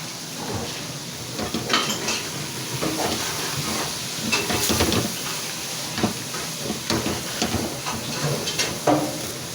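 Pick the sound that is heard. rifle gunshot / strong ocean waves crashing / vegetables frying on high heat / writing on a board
vegetables frying on high heat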